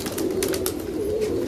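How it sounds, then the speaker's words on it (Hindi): A Gulab Sara pigeon coos in a low, steady, rolling call, close and clear over faint background noise. "ये गुलाब सरा का कबूतर है"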